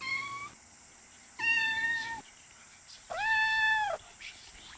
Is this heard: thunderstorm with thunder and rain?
no